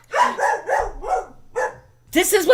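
A dog barks in a quick run of four sharp woofs, then one more and a final yelping burst, close and loud indoors, with a voice mixed in.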